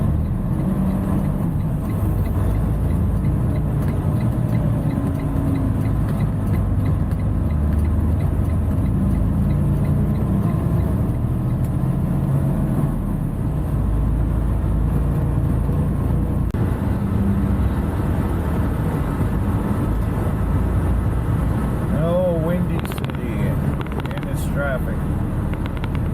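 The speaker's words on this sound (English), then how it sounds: "yeah, the traffic's definitely picked up a little bit." Road traffic heard from inside a truck cab while hauling a load westbound: a steady, loud low rumble of engine and road noise with passing vehicles, and a voice talking over it at times.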